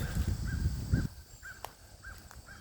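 A crow caws repeatedly outdoors among black walnut trees, a few evenly spaced calls ringing out at moderate distance after a low rumble of handling noise fades.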